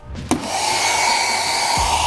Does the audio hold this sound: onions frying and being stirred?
no